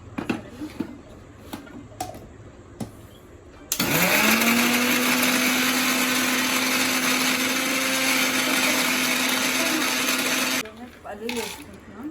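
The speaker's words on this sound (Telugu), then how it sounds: "మిక్సీ పట్టేద్దాం" A mixie grinder blends fried peanut chutney with tender tamarind leaves: the motor kicks in abruptly with a loud, steady whine for about seven seconds, then cuts out, with softer kitchen clatter before and after.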